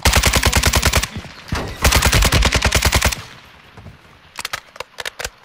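Machine gun fire in the video game Call of Duty: Modern Warfare: two long rapid automatic bursts, loud and close, separated by a brief gap, then a quieter lull and a few scattered sharp shots near the end.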